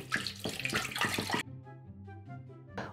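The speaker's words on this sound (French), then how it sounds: "on rajoute 500 g d'eau dans le bol" Water poured from a container into the bowl of a Compact Cook food processor, a steady close splashing stream for about a second and a half that stops abruptly, followed by quiet kitchen room tone.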